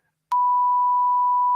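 A single steady censor beep, a pure sustained tone lasting just over a second, loud and alone, covering a spoken word.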